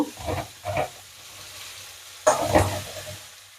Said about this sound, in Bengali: একটু সামান্য নুন দিয়ে আগে ভেজে নিই